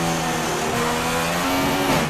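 Onboard a McLaren Formula 1 car in the F1 2016 video game, the engine screams close and loud, a sustained high-revving whine that shifts pitch slightly as it accelerates, with no pauses.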